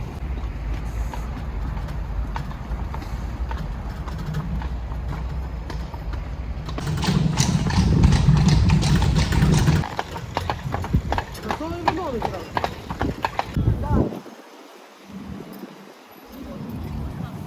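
Steady clip-clop of horse hooves pulling a carriage in Lviv, rhythmic and close, with wheels rattling and people talking throughout.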